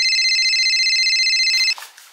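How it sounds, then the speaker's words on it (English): A telephone rings with a steady electronic tone that holds for a moment and then cuts off abruptly, loud and close. "It's already ringing."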